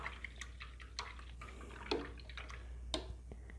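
Paintbrush being rinsed in a container of water while painting with acrylics, giving small scattered drips, splashes and swishes, quiet and close over a low steady hum.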